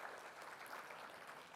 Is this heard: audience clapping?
yes